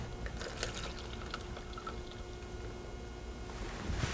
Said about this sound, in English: going to pour some water in there.